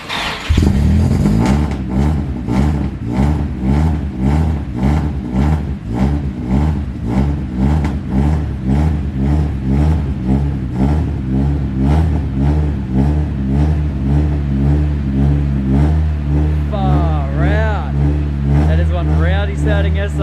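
A Nissan Silvia's SR engine turns over and catches, then revs hard and close in rising and falling bursts with a rough, throbbing note, while voices talk over it.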